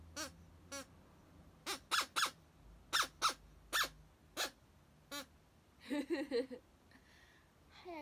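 A toy bird gives a string of sharp, squeaky squawks in an uneven rhythm, ending in a quick flurry of warbling chirps, fairly quiet against a hushed background.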